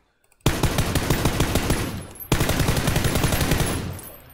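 Automatic rifle fire in the video game PUBG: two loud, fast sustained bursts of rapid evenly spaced shots, the first starting abruptly after a brief silence and a second following right after, close and with no talking.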